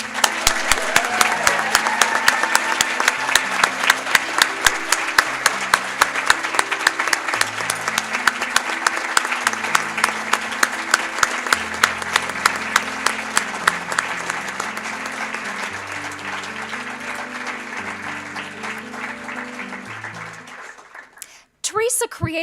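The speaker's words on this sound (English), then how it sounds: "Please, let's have a big cheer and applause to show our gratitude for Teresa." A large audience at a student production Emmy awards ceremony cheers and applauds in a long, dense, sustained ovation while music with a regular beat plays, fading out near the end.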